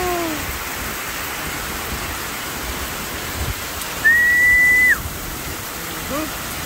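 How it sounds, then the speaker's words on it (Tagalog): Heavy rain pours down in a dense, steady roar, with a short whistle-like tone cutting through partway. "Ayan ang ulan."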